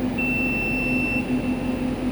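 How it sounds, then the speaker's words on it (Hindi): A 60 KVA BPE UPS sounds its alarm after its input MCB is switched off: a steady electronic tone with a pulsing low buzz, continuous over a constant background hum. "यहाँ पे देखिए अलार्म जनरेट हुआ है।"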